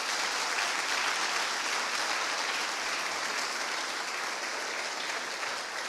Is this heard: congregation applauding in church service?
yes